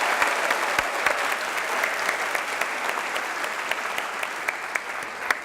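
Steady applause fills a school awards ceremony for 10th grade academic achievers, a dense wash of many hands clapping at even loudness, with a few louder individual claps standing out.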